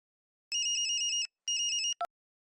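A telephone rings for an incoming call, giving two clear bursts of rapid electronic trilling separated by a short pause, then a brief click as it is answered, in an otherwise quiet room.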